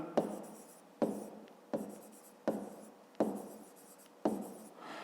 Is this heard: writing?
yes